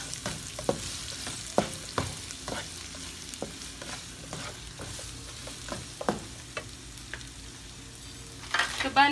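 Onions sizzle steadily in a pan while a utensil scrapes and stirs them in repeated sharp strokes, close up with no talking, in a home kitchen preparing chicken noodle soup with vegetables.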